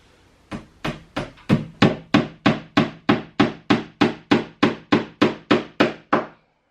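A hammer strikes a nail in about fourteen sharp, evenly spaced blows, roughly two per second, each loud and close with a short ringing decay, then it stops, with no talking.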